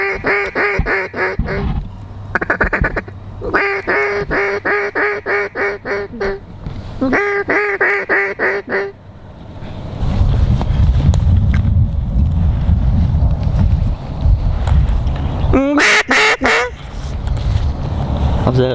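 Pintail ducks call in bursts of bright whistles and quacks over the first nine seconds, close and clear, then wind rumble takes over with another short burst of calls near the end.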